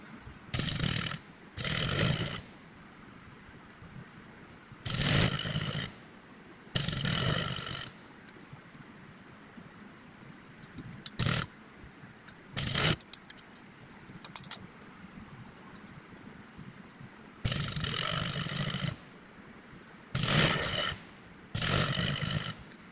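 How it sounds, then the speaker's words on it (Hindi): Sewing machine stitching folded fabric for ruffles, several separate bursts of rapid mechanical whirring with quiet pauses and small handling clicks between them, close by. "अब इसको ऊपर और नीचे दोनों साइड से इस तरह से फोल्ड करके सिलाई कर लेंगे।"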